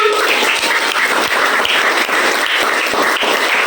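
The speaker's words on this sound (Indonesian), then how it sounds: "Tepuk tangan." Sustained clapping from a room full of people, loud and busy, with individual sharp claps standing out from the continuous roar.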